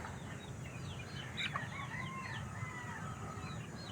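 Young hens two to three months old, including Talisain gray and gold breeds, cluck and chirp on a farm with a rooster-like call mixed in, a steady busy flock sound at moderate distance.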